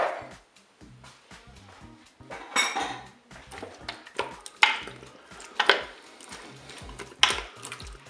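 Gnocchi and crushed tomatoes stirred in a Cookeo pot, a series of loud clanks and scrapes of a utensil against the metal bowl, irregular and close, with quiet pauses between.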